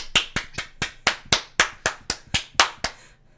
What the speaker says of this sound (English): Those were my hands clapping